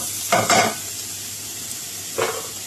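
Onions brown in a frying pan for palabok with a soft steady sizzle, broken by two brief scraping stirs of a utensil against the pan.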